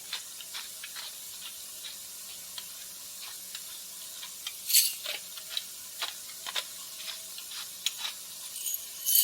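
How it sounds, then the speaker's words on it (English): A salt grinder turned over salmon fillets, making quick dry crackling ticks in short rhythmic bursts. The sound is close and fairly quiet, with a little louder grinding near the end. "I'm going to season this with some salt and pepper. Here's my salt."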